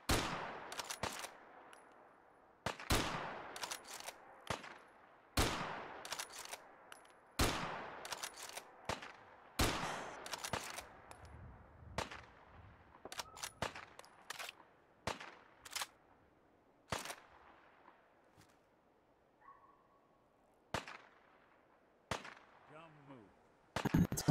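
Gunfire in Fallout 4 survival play: repeated loud, sharp shots in irregular bursts and single cracks across the span, with quiet gaps between volleys and a faint voice at times.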